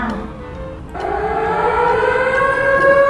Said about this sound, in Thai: นักเรียนก็ได้ยินเสียงเตือนภัยสึนามิกำลังจะมา